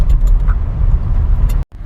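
A vehicle moving on a busy mountain road toward Gangotri, a close steady engine and tyre rumble that cuts out abruptly near the end.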